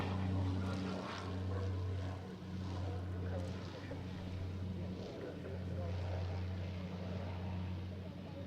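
A propeller aircraft arrives at the Waddington airshow, a steady low droning engine hum at moderate distance, fairly faint and continuous, with faint voices mixed in.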